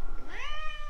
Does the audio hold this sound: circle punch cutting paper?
no